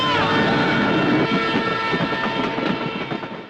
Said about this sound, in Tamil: நீங்க சொன்ன இடத்துல ராத்திரி 9:30 மணிக்கு ஒரு ட்ரெயின் பாஸ் ஆச்சு